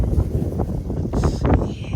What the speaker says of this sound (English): look at her just blowing in the wind